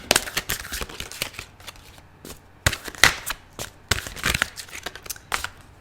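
Tarot cards being shuffled by hand, a run of quick, crisp riffling bursts and papery flutters in irregular clusters, close and clear, with short pauses between shuffles.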